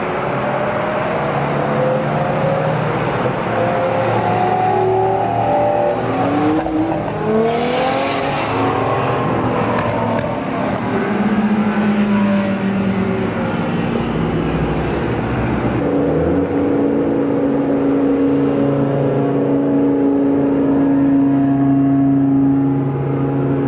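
Exotic supercars rolling past one after another at a cars and coffee meet on the Mississippi coast, engines droning and revving loudly up close with shifting pitch as each machine passes, steady vehicle noise throughout.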